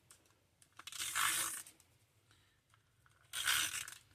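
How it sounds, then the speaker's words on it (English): A tape runner lays adhesive onto paper for a handmade card, making two short, quiet rasping strokes about two seconds apart against a near-silent background. "now we'll use some tape runner"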